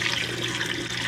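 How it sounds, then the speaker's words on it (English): Cool tap water pouring steadily into a water bath canner holding cold jars of tomatoes, a continuous close rushing splash with no talk. "So we're just gonna add some water to this."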